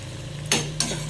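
Small fish frying in a wok for an Assamese small-fish chorchori, with two short bursts of sizzling and stirring rising over a low, steady background hum.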